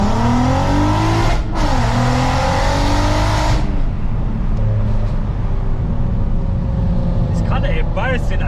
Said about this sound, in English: Right folks, so first gear, floor it in R32.